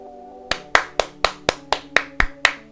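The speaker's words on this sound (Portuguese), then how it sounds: "Mais palmas." Nine sharp, evenly spaced hand claps ring out alone against a faint steady tonal hum, each clap crisp and close with a short decay.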